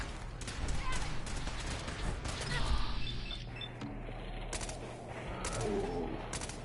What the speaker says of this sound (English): We are being shot at.